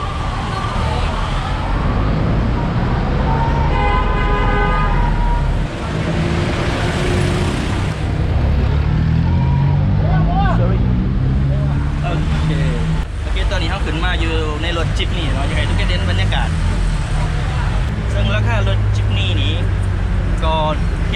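Busy Manila road traffic heard from inside a rattling jeepney, with engines rumbling, horns sounding now and then, and people talking over the noise.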